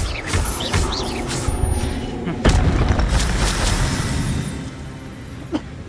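Incendio and Expelliarmus spell effects in Hogwarts Legacy: a run of booming magical blasts with a sharp hit midway, crackles and whooshes, and a voice calling out over the effects.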